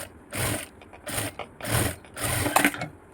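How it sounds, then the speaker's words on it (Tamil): Domestic sewing machine stitching a blouse lining, running in four or five short rhythmic bursts of rapid mechanical chatter with brief pauses between, close and fairly quiet. "அதுக்கு நேராக அப்படியே படிமான தையல் ஓட்டிடுங்க"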